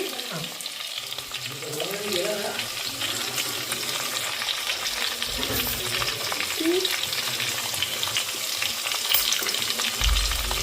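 Chopped garlic and green chili sizzle steadily in a pan of hot oil for anda bhurji, a continuous frying hiss with occasional stirring scrapes, close and fairly loud with no speech.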